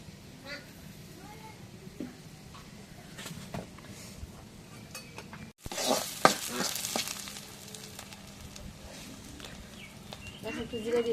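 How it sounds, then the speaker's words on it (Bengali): Chopped garlic sizzles in oil in a wok in a village kitchen, with steady frying hiss and occasional metal clinks, rising to a louder burst of sizzle midway as more oil goes in. "এখন কড়াইয়ে রসুন কুচি দিয়ে দিচ্ছি। এখন তেল দিয়ে দিই।"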